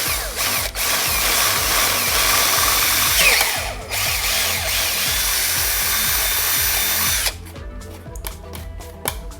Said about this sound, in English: as soon as you start drilling, if you put too much pressure on it, it's just gonna eat the whole thing down